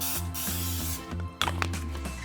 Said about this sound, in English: We're going to lightly spray it with some cooking spray.